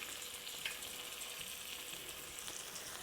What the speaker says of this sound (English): here are the gorgeous fried eggs